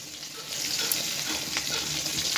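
Nigella seed tempering with green chilli and mustard paste sizzling in hot oil for a fish curry, a bright steady crackling sizzle close by with small spatters, no talking.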